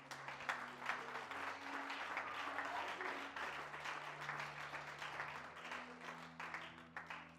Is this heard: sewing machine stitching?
no